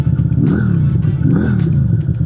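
A QJ Motor SRV 250 AMT's 250 cc V-twin idles close by with a loud, steady, lumpy throb and a couple of slight swells in revs.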